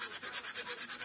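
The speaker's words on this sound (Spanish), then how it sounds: "voy a tomar una lija y voy a empezar a recuperar el enduido" Sandpaper sanding paint off plaster filler in quick back-and-forth rubbing strokes, about seven even rasping passes up close, with no talk.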